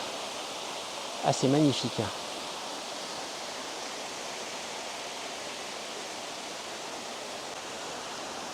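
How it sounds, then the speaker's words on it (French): Steady broadband rush of a small waterfall on the Vaioro waterfall hike in Moorea, constant and fairly close, with a short spoken remark near the start over the continuous water noise. "Et là, encore une petite chute d'eau."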